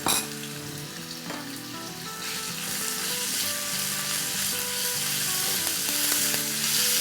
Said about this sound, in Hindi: ये हमें सिजल का साउंड चाहिए